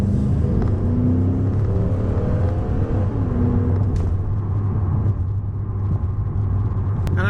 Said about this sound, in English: Let's hear that exhaust again.